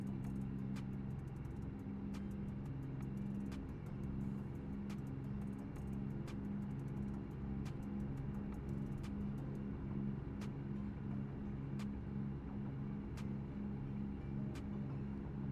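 Steady road traffic in American Truck Simulator, a continuous low engine rumble of passing cars and trucks with faint repeated clicks on top, held at an even, moderate level throughout with no talk.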